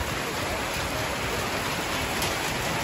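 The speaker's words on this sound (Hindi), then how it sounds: "माशाल्लाह जी बहुत ही तेज़ बारिश लगी है" Heavy rain pouring down in Kel village in the Neelum Valley, a dense, steady hiss of downpour with no breaks, loud and close, with no voices.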